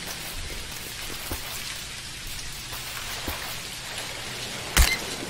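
Steady rain patters continuously in the Dinkum video game, a soft even hiss of falling drops with occasional louder taps and one brief sharp click near the end, with no talking.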